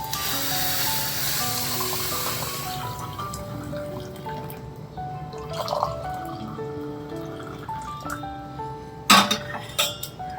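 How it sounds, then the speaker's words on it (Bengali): Heated tea pours into cups with a liquid trickle at first, then a quieter spell with small clinks. A sharp clink of a cup comes near the end. "চাটা গরম করেছি, ঢেলে নি।"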